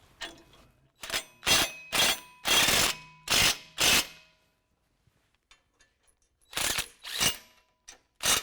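A ratchet snugs down lift kit hardware on a 2016 Chevy Silverado 1500, heard as a series of loud, rapid clicking bursts up close, then a short pause with faint taps before a few more ratcheting runs.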